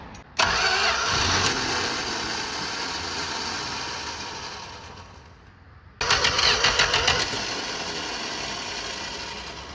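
A 1966 Dodge Dart engine cranks without fuel in two rhythmic starter bursts, the first running several seconds and fading, the second briefer after a short gap, close and loud with no talking.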